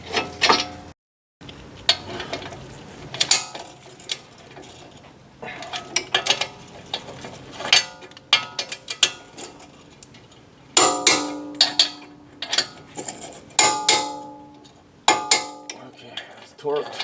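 Ratchet clicks and metal tool clatter while bolts are torqued on the front brake of a 2016 Ford Focus, coming as close, irregular bursts of clicking with short pauses between them and no talk.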